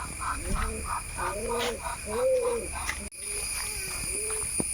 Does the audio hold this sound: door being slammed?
no